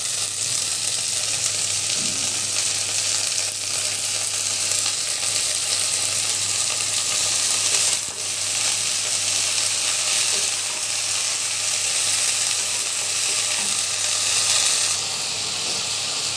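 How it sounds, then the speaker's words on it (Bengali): Loud, constant sizzling of greens frying in a hot pan, with no talking. "এখন শাকটাকে আমি ভাজতে শুরু করবো"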